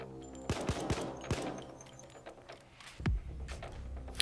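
Gunfire in the heist game Payday, a cluster of sharp shots early on followed by a few scattered reports and mechanical clatter over a steady game background.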